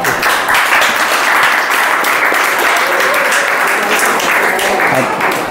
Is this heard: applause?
yes